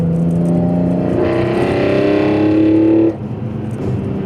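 A BMW E46 M3's inline-six fitted with velocity stacks revs up loud and close, its pitch climbing steadily for about two seconds before the throttle snaps shut and it drops back to idle.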